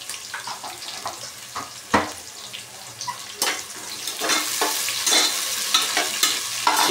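Cumin and chopped onion fry in hot oil with a steady sizzle, as a spoon stirs and scrapes through them now and then, close and continuous with no talking.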